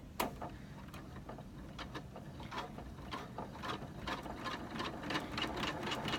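Embroidery machine stitching through vinyl with a worn needle that skips stitches, giving a steady mechanical hum with quick repeated needle clicks, close and moderately loud throughout.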